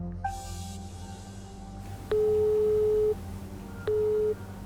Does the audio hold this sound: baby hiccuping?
no